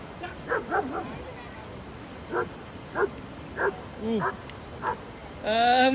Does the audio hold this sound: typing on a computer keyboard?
no